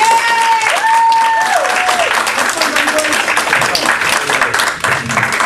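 Comedy club audience applauds and cheers as a comedian takes the stage, a loud, dense burst of clapping heard close, with whoops and voices layered through it.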